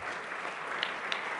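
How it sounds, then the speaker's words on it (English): Audience applause at a gala dinner, a steady wash of many hands clapping at moderate distance, fairly faint and even for a brief moment with no voices over it. "She deserves a round of applause."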